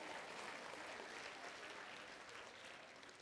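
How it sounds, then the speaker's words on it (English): A church congregation claps together as an offering to God during a sermon, a steady, even roar of many hands, distant and fairly soft, fading slightly toward the end. "Let's give God a clap offering."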